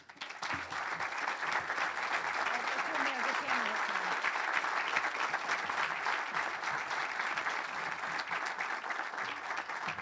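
Sustained applause from a large crowd at a school graduation ceremony, steady and loud for the whole stretch, with a few voices faintly mixed in.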